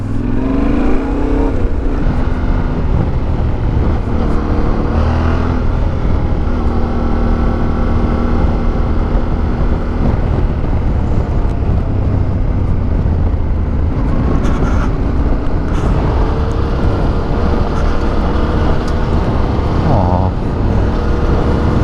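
A Yamaha Ténéré 700 motorcycle on a dirt track makes a loud, continuous engine drone with rises and falls in revs, close to the mic. A rider talks over it at times.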